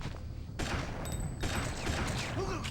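Rapid bursts of gunfire fill a shootout in the video game Fear Effect, dense and continuous with brief gaps, loud and close over game ambience.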